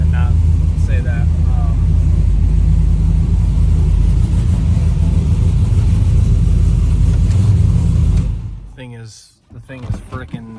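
A red truck's 502 cubic inch LS solid roller engine runs loud and close, a heavy steady rumble that cuts off near the end, leaving quiet room sound with a person talking.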